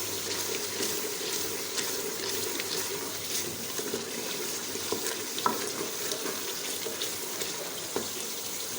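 Meat sautéing with salt, chili and turmeric in a pan, a soft continuous sizzle with occasional stirring scrapes and small clinks, fairly quiet and steady, no voices over it.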